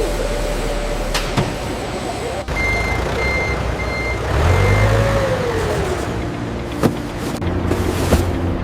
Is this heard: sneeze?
no